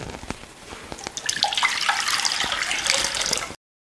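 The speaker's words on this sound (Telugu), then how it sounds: "ఇప్పుడు కందిపప్పు ఉడకడానికి సరిపడా నీళ్లు వేసుకుంటున్నాను." Water splashes and gurgles into a pot of washed toor dal, starting with scattered drips and then becoming a steady, close pour that stops abruptly, with no talk.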